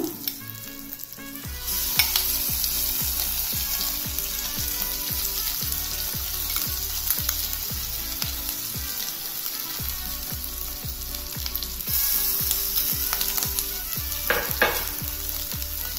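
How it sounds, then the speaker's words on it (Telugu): Grated coconut and curry leaves frying in a pan over a medium flame, a steady close sizzle with rhythmic stirring scrapes throughout, no talking. "మీడియం ఫ్లేమ్లోనే పెట్టి వేయిస్తున్నానండి."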